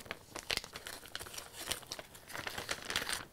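A plastic piping bag for decorating gingerbread cookies crinkles and rustles as it is handled, a close, steady run of soft crackles and crumpling bursts with no voices.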